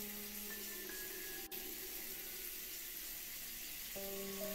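Steady shower water from the video game Blight Dream hisses evenly throughout, faint and unbroken, with low tonal hums from the game beneath it.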